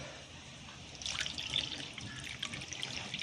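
Water poured from a measuring cup, two cupfuls, into a pot for a rava vada dough; a soft, steady splashing trickle that grows louder after a quiet start and runs on without talk.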